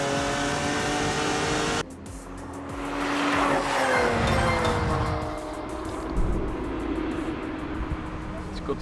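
Tuned diesel car revving hard while rolling coal at a drag race, a loud broad engine roar swelling and rising mid-clip, cutting in abruptly after a brief quieter stretch, with people talking over it.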